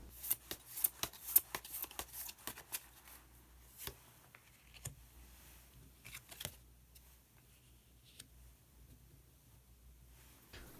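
Tarot cards are shuffled and drawn, giving soft, scattered flicks and riffling snaps that are quiet and close, loudest at the start and thinning out afterward.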